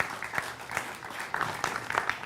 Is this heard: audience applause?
yes